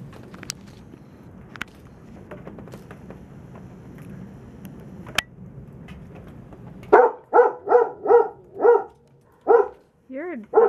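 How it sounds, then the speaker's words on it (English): Outdoors on a very windy day, a dog barks about eight times in a loud, fairly close run of sharp barks after a quiet stretch of breezy background with faint footsteps. "You hear a dog bark and then you just look for a second."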